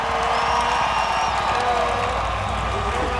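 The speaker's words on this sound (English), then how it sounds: "You can hear the crowd." Steady crowd roar and cheering fill a stadium at a motocross best trick event, with faint whistles and a continuous wash of noise under announcer talk.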